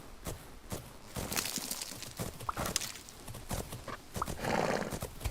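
Horse hooves clip-clop through the game Fernhoof Grove, steady uneven footfalls over a busy bed of game sound, with a horse whinny rising briefly partway through.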